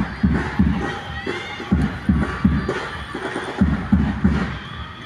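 UP supporters at a volleyball game cheer as a loud crowd, with rhythmic bursts of chanting and thumping in a regular beat, close and energetic throughout.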